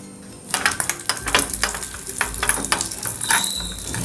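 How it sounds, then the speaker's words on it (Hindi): Crushed almonds roasting in half a spoon of ghee in a pan for lauki halwa, with a soft steady sizzle under repeated stirring scrapes and light clinks of a spoon against metal. "यहाँ पर ड्राई फ्रूट रोस्ट कर लेते हैं। तो बिल्कुल थोड़ा सा आधा चम्मच घी डालेंगे। इसमें बादाम डाल देती हूँ।"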